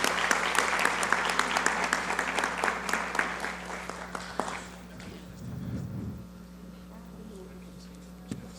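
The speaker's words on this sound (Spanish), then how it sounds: "Fuerte aplauso, por favor." Audience applause at the close of a panel discussion, steady dense clapping for about four and a half seconds that then fades out, leaving a quiet room with faint stray sounds.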